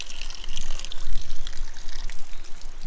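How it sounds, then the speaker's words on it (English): Spring water runs and splashes loudly and close up in the Taketi Mountains in Greece, a bubbling, gushing flow with uneven surges and no talking. "It's a water! It's a running water!"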